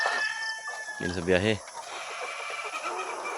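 Young RTL chickens cluck and squawk close by, with one short loud call standing out among softer background clucking, while someone speaks briefly over them.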